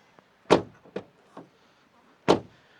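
Knuckles rap on the door panel of a 2025 Renault Triber facelift, giving a few sharp, hollow knocks: one firm strike, a couple of lighter taps, then another firm hit after a pause, close up and with no talk.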